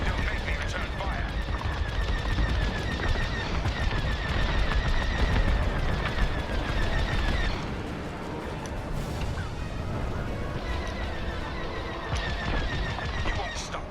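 Space combat from Star Wars: Squadrons, with dense, loud blaster fire and rattling cannon bursts, missile whooshes and a constant engine roar, a brief lull in the middle, and voices talking over the battle.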